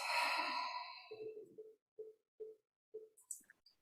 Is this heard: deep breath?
yes